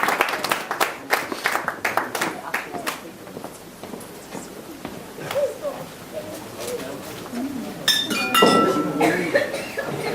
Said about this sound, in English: a round of applause for the ushers